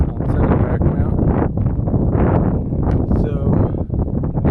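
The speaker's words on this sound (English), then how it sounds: "it's windy and cold up here" Strong wind buffeting the microphone in heavy, continuous gusts on the summit of Mount Katahdin, with a voice faintly underneath.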